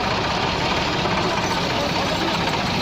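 Tractor engines roar steadily and loud, three tractors straining together to pull a harvester stuck in mud, a continuous heavy rumble with no pauses.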